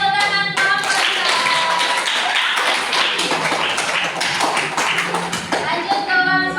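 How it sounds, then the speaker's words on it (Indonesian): A classroom group of students claps for group 2, a dense burst of hand claps and taps that stays fairly loud for several seconds, with a voice briefly heard over it. "Beri tepuk tangan kelompok 2."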